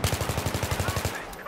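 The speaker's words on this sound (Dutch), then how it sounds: "Hey, mijn laatste schot." A rapid burst of about a dozen evenly spaced gunshots from an automatic weapon in the video game Battlefield 3, loud and close, then breaking off abruptly.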